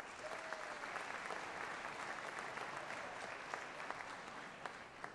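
An audience at a Scór Sinsir final applauds the judges, a sustained, even patter of many hands clapping, steady and fairly distant throughout.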